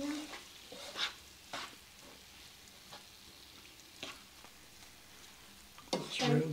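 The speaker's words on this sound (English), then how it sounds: "I do like cooking the peppers and onions first before I put the hamburger meat in there" Sliced peppers and onions frying in a pan, a soft steady sizzle broken by scattered scraping stirs, with a louder clatter at the end and brief voices nearby.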